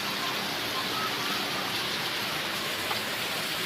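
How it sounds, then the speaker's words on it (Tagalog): Heavy typhoon rain pours down in Mariveles, Bataan, a dense, steady hiss of rainfall that stays constant throughout, with no voices. "ingat kasi malakas ng ulan"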